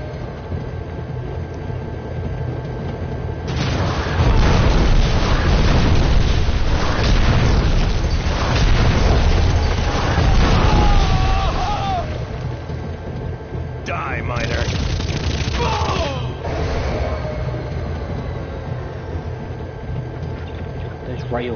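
Rail gun shots and explosions in the video game Red Faction: heavy booming bursts dominate the middle stretch, with a second burst later, over a steady game background and occasional voices.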